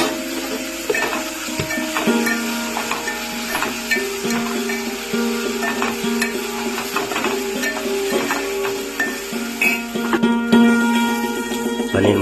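Paneer fries in hot oil with salt and turmeric, giving a steady close crackling sizzle with occasional stirring clinks in the pan.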